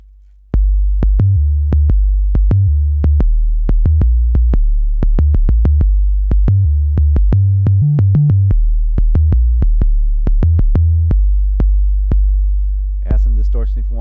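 Deep 808-style sub bass notes from an Akai MPC 2.9 play in a punchy rhythmic pattern, each note hitting hard and ringing with a long sustained tail, and some pitches shifting between hits before a brief noisy burst at the end.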